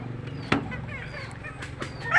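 Backyard chickens clucking and calling close by in a short burst of overlapping fowl noises, with a louder squawk near the end.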